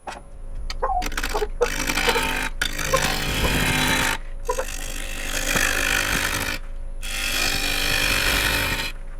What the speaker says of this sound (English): I'm going to start out with a sharpened 5/8 inch bowl gouge and see how it cuts